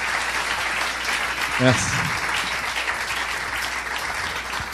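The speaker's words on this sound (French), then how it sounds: "Vous pouvez encore les applaudir, s'il vous plaît." Audience clapping at an entrepreneurship conference panel in Nantes, a steady sustained wash of applause filling the room, with a brief spoken word from a host near the middle.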